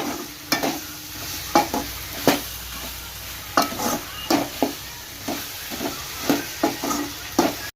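Yam pieces sauté in a pan under a soft sizzle, with a spatula scraping and tapping in an irregular rhythm, close by.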